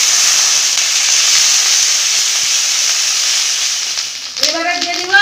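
Whole garam masala and a bay leaf sizzle loudly in hot oil in a kadai, a steady close hiss that fades slightly before a voice speaks at the end.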